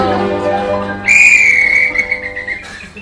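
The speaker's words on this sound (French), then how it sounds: "Monsieur Ziegler vient de siffler la fin du match" A sharp, shrill referee's whistle blows one long blast ending a match, lasting over a second, loud and close, after a stretch of singing and background noise.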